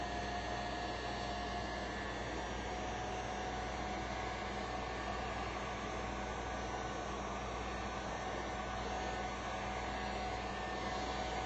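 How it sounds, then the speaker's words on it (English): A heat gun blowing hot air to melt and smooth wax on a wax owl wall hanging, a continuous loud, steady whooshing fan roar with a motor hum and no pauses. "with my heat gun, I'm going to hold this flat and just heat this enough to melt the wax I just put on here and smooth it out"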